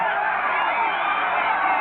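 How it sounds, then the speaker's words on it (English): A dense, steady roar of a football stadium crowd at a Michigan Panthers versus New Orleans Breakers game, loud and continuous throughout with no breaks. "And the crowd comes to life now."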